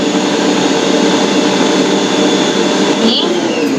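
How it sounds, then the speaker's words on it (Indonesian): An electric mixer grinding purple sweet potato into donut dough, a loud steady whirring drone that runs unbroken throughout, close by and without talk. "setelah masukkan ubinya, kita giling lagi seperti ini"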